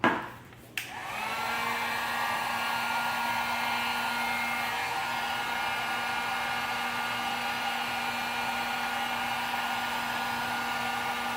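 A heat gun or hot-air blower shrinks heat-shrink tubing on a high-speed trolling wahoo lure rig with a plastic tip, switching on after a brief click and then blowing as a steady, close whooshing hum that lasts throughout.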